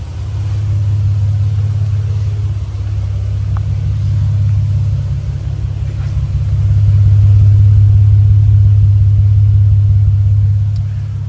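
Ford BA Falcon drift car engine idling steadily up close, a loud low rumble that swells slightly toward the end, with no voices.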